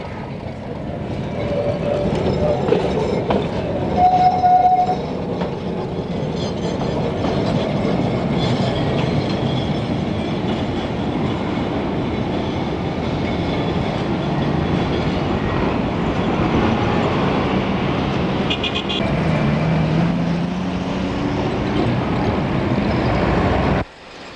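Trams arrive and depart around their terminal loop outside Howrah station, filling the air with a continuous rumble of wheels and rattling cars, punctuated by brief squeals and clicks, with nobody speaking.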